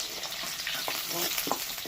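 Potatoes fry in hot oil in a pan, giving a soft, steady sizzle with a few brief stirring scrapes, heard close and fairly quiet, with no talking.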